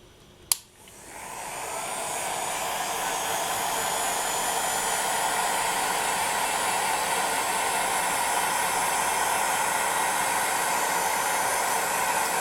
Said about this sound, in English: And just move your heat gun around like so.